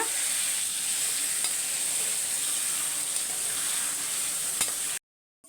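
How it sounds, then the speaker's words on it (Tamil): Chicken frying in a pan and being stirred and turned, a steady close sizzle with scraping from start to finish that stops abruptly near the end. "நல்லா அப்படியே பெரட்டி விட்டுருங்க"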